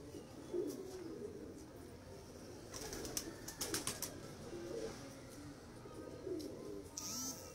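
Pigeons coo in soft, repeated low phrases throughout, with a burst of brief wing flutters near the middle and again near the end, moderately faint against a steady background.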